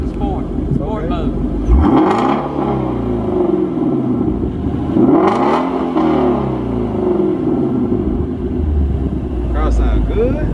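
A 2017 Ford Mustang Shelby GT350R in sport mode revs twice, each rev climbing to a loud roar and falling back, with a deep rumbling idle between and people talking over it.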